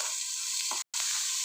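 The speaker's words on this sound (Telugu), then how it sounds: "మనం కట్ చేసుకున్న ఉల్లిపాయలు వేసుకోవాలండి." Chopped onions hit hot oil with tempering seeds for a bitter gourd curry, giving a steady close sizzle with a stirring scrape and a short cut-off.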